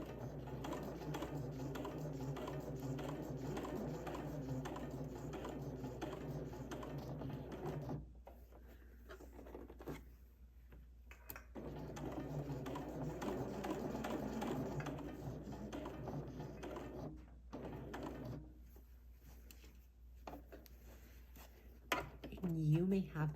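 A sewing machine basting a 5mm straight stitch runs in steady whirring, ticking bursts, with a pause in the middle before stitching resumes and stopping again near the end.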